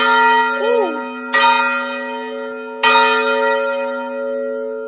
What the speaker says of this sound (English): That's what the significance of this bell is.